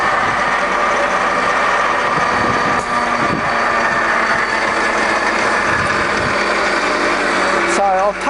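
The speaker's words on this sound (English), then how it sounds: "So that's that horizontal running at a different speed" A used Starrag universal milling machine runs with its horizontal spindle in a different gear range, giving a loud, continuous mechanical drone with a whining hum throughout.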